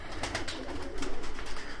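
Miro Altuni pigeons, a rare Turkish breed, give soft repeated cooing calls close by, with faint rustling in the background and no talk.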